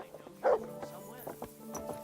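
A dog in Kingdom Come: Deliverance II gives a sharp yip followed by several softer whimpering barks, close by, mixed with someone talking over it.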